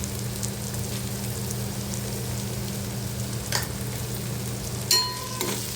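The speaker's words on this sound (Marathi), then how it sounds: "पुन्हा परतून घेऊया आणि आपलं टोमॅटो चांगलं मस्त मऊ शिजवून घेऊया" Tomatoes sautéing in a pan give a soft continuous sizzle, joined by a couple of brief utensil scrapes and a clink near the end, close and steady with no talking.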